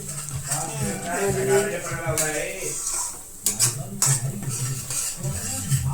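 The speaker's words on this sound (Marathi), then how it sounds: "मसाला चांगला भाजून घ्यायचा." A spatula scrapes and clinks against a pan as ground masala for a mutton curry roasts in oil, with irregular close stirring strokes and soft sizzling between them.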